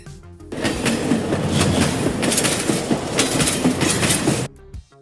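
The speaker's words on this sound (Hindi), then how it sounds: "लगता है कोई रेल अंदर आ रही है।" A train rushes through a tunnel with a loud, roaring rumble and rhythmic clickety-clack of wheels on rails. It swells quickly, holds for about four seconds, then cuts off sharply.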